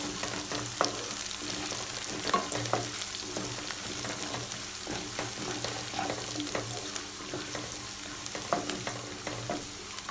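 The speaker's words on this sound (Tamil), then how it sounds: "கொஞ்சம் நேரம் ஃப்ரை பண்ணிக்கோங்க" Curry leaves and green chillies fry in a pan for potato kurma, a steady low sizzle with frequent crackles and pops, plus occasional stirring scrapes, close and fairly quiet.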